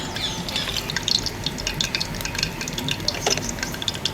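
Mustard seeds and cumin sizzle in hot oil for a misal tempering, giving a steady close hiss scattered with small crackling pops, with no voices.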